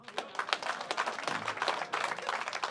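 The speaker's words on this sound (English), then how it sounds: "Just a lot of slow clapping." Comedy club audience in Las Vegas claps slowly and sparsely, a scattered patter of separate hand claps at moderate distance with some murmuring crowd noise, lacking cheers.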